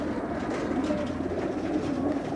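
Soft, continuous low cooing from about 20 pigeons in a basket close by, a steady murmur with no talking.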